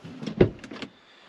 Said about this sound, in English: So when you open the door